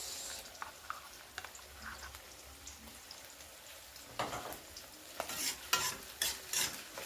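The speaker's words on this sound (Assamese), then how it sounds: "সেইকাৰণে ভালকৈ ফ্ৰাই কৰিব লাগে মছলাখিনি।" Masala for pork frying in a pan while being stirred, a low sizzle under repeated scraping and clattering spatula strokes that grow louder and more frequent toward the end, no speech.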